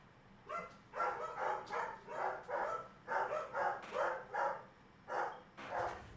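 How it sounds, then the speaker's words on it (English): Dogs bark in the background in a steady run of about a dozen sharp, evenly spaced barks, moderately loud, with brief pauses between groups and no talking over them. "dogs in the background, barking it out"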